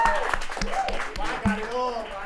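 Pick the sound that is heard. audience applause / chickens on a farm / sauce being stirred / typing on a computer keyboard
audience applause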